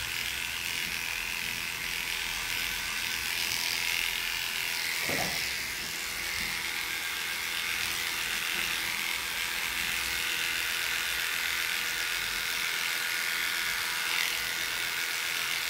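Electric clippers with an 8.5 blade buzz steadily and close up while shaving a Maltese dog at a grooming table, a continuous motorised hum with a brief scrape partway through.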